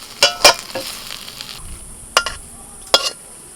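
Egg dopeyaja stirred and fried in a kadai until dry brings sharp spatula scrapes and clatters at irregular intervals over a soft, constant sizzle, close by.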